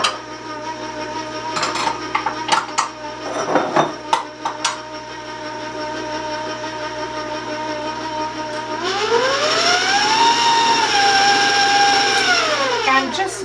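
An electric mixer whirs loud and steady, its pitch shifting as it churns cocoa cake batter for a fruit-sweetened coconut cake, following a stretch of clattering kitchen knocks and tapping.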